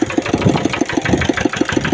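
A ride-on lawn mower tractor engine runs close and loud, a steady rapid chugging pulse with even beats throughout and no talk.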